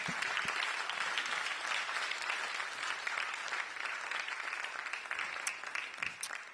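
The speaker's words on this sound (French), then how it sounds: "On peut leur donner une bonne main d'applaudissement." A church congregation applauds people about to be baptized, a steady wash of many hands clapping at moderate distance, dense and sustained without a break.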